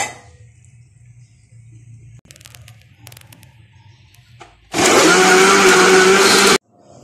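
Kitchen blender whirring at high speed as it crushes tablets into half a cup of water, a loud steady roar that starts abruptly, runs for about two seconds and cuts off, following a quiet stretch with faint handling sounds.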